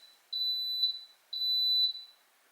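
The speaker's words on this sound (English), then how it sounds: "when you hear the beep, that means that it is starting to pressurize" An Instant Pot pressure cooker emits two long, steady high-pitched electronic beeps separated by a short pause, close and clear with no talking.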